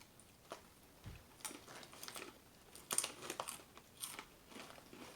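Close, quiet crunching of crisp cassava chips being bitten and chewed, with sharp crackly bites spaced through the chewing.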